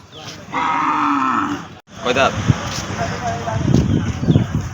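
Cattle mooing at a crowded livestock market before Eid sacrifice, a long loud bellow up close followed by further lowing amid a dense murmur of people talking.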